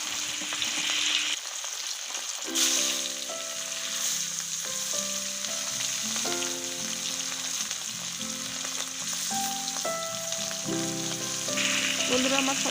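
Katla fish pieces frying in hot oil in a wok, a loud continuous crackling sizzle throughout with a brief quieter dip early on, while background music plays underneath.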